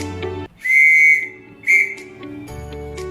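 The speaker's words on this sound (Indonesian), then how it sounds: "kemudian bunyi dari huruf M." Morse code letter M whistled as two long high tones with a brief gap between them, loud and near, with quiet background music continuing underneath.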